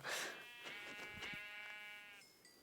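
A single Minecraft sheep bleats in a wavering, drawn-out call lasting about two seconds, followed by a brief faint tone.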